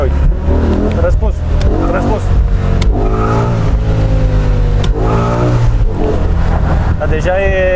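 A 612-horsepower Mercedes E63s AMG engine revs and accelerates in loud rising and falling surges, close by, while people talk over it.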